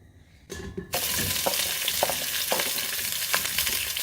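Vegetables fry in hot oil for a Ghanaian jollof stew, starting with a quiet moment before a burst of sizzling that settles into a constant crackle, with a spoon scraping and stirring at intervals.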